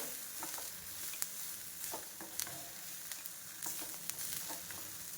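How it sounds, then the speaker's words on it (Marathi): Red chilies and other chutney ingredients dry roast in a pan as they are stirred constantly, giving a faint, steady sizzle with soft scraping strokes and no voices. "हे सर्व इंग्रेडियंट्स सतत हलवत आपल्याला भाजून घ्यायचे आहेत."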